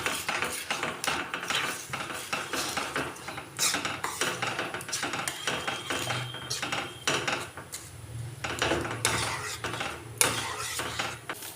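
Date palm jaggery being stirred into mashed sweet potato for pitha, with busy clinking and scraping of a spoon against a metal pot, repeated irregular knocks and rattles close up, and no talking.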